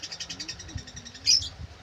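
A young pet pigeon gives soft, rapid repeated calls close by, a quick pulsing series followed by a brief sharper chirp.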